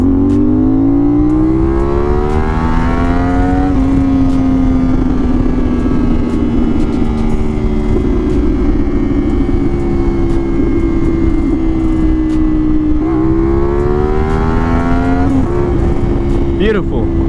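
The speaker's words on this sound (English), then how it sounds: "give you guys a quick sound of what it sounds like when you're accelerating" A CFMOTO 450SS motorcycle accelerating hard through several gears, the loud engine rising in pitch and dropping at each upshift, recorded close from the rider's position with constant wind roar.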